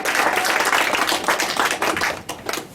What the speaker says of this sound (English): All right, Donna, we're gonna clap for that.